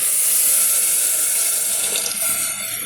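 A close, steady stream of water pours continuously into a pot for vegetable pulao with a bright hissing splash, easing slightly toward the end.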